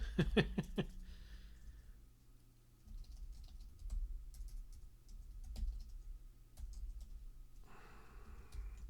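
Someone types on a computer keyboard during a programming session, producing sparse, irregular soft key clicks with pauses between short bursts. The sound is quiet and close, with no talk over it.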